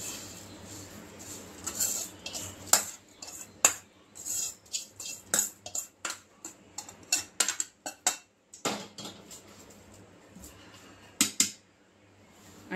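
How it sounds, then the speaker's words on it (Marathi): A spoon stirring crisp fried onion into thin-poha garlic chivda with peanuts and curry leaves, giving light, irregular clicks and scrapes against the bowl, quiet and close, with short gaps and no talking. "आता हा आपण मिक्स करू आपल्या चिवड्यामध्ये."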